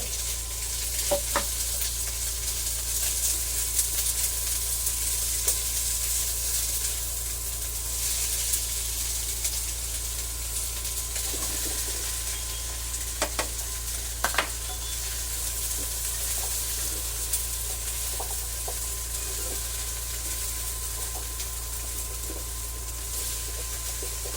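Vegetables stir-fried together in a pan, a steady, fairly loud sizzle with scattered clicks and scrapes of stirring over a low hum.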